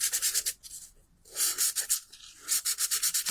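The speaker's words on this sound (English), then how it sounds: "If you rub it with your nail file, or if you've got sandpaper, you can take off." Nail file rubbed over paper laid flat on a table during card making: quick, close rhythmic scratchy strokes in two bursts separated by a short pause, fairly quiet.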